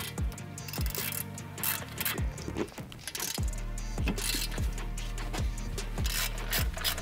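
Ratchet wrench loosening 18mm brake caliper bolts on a car during a big brake upgrade, a run of close, rapid metallic clicking bursts repeating in quick rhythm with no talk.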